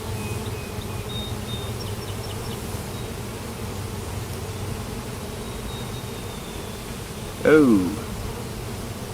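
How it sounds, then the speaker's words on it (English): Honey bees buzzing steadily and close around an open hive during an inspection, a dense continuous hum with a brief voice near the end. "That's a brand new bee."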